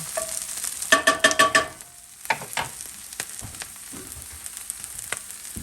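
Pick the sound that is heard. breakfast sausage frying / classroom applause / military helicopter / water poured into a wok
breakfast sausage frying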